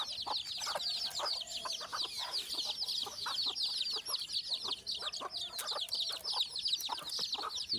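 Young native chicks give continuous high, rapid cheeping calls from close by, and a few soft clucks from older birds mix in.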